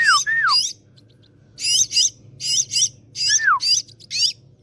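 A brood of white-cheeked starling chicks begs for food from a nest rescued from a pipe. Close, loud bursts of raspy, squeaky calls come in repeated clusters with short pauses between them.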